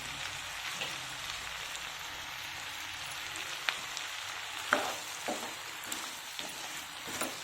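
Vegetables for veg pulao frying in a pan with salt, giving a steady broadband sizzle like light rain, with a few sharper pops and scrapes of stirring near the end.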